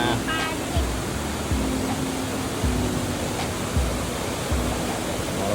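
A waterfall in Chanthaburi, Thailand, heard as a steady broadband rush of falling water that fills the whole clip, with a faint low engine-like hum and soft thumps underneath.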